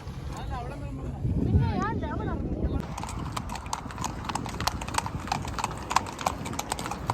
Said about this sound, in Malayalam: എന്റെ കുതിര